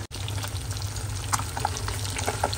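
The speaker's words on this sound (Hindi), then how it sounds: "एक साइड हो गया है फ्राई हमारा और एक साइड में पलटा के फ्राई कर लेती हूँ।" Rohu fish pieces shallow-frying in a pan, turned over to cook the second side, give a steady, dense sizzle that runs continuously throughout with a few brief crackles and pops near the pan.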